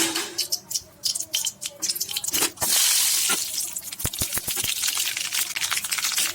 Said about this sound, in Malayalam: വെളിച്ചെണ്ണ ചൂടായി കഴിയുമ്പോൾ കടുകിടുക